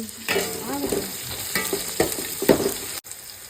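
Onions and tomatoes sauté in a pan: a soft sizzle under repeated stirring scrapes and clinks of a spoon, close and moderately loud, with a brief cutoff near the end.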